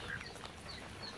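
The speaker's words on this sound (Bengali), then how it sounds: "প্রচুর দেশি মুরগি, সব নানির।" Indigenous desi chickens cluck softly at a grandmother's village home, with scattered faint calls over quiet background noise and a brief louder sound at the very end.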